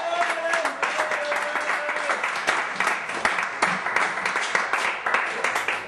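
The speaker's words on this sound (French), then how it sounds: "Et on applaudit s'il vous plaît" Audience applause at a slam poetry league launch in Mende, steady crowd clapping throughout with a faint tonal sound early on and some voices mixed in.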